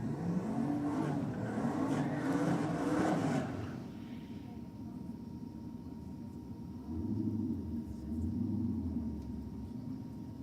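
A Nissan GT-R R35 and a turbo Commodore drag race, engines revving hard and loud at first, then dropping to a distant rumble before a couple of deep surging revs return.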